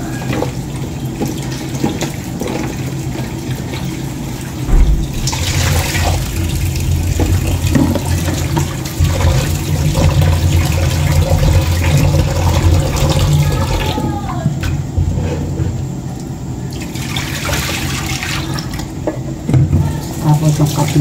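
Water from a kitchen tap gushes steadily into a sink while chili peppers are washed, a continuous splashing under a voice talking, with brief pauses and changes in the flow.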